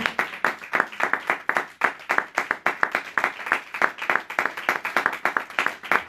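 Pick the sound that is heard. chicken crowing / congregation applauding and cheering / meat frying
congregation applauding and cheering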